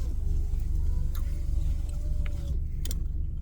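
Steady low rumble of a car interior while driving, a constant engine and road drone with a few faint ticks and clicks on top, no talking.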